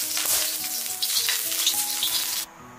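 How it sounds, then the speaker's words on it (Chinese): Cooking oil heats in an iron wok with a loud, steady, close sizzle and crackle that holds for over two seconds and then cuts off abruptly. There is no talking. "准备一口铁锅，加入少许食用油，油热之后给它润一下锅"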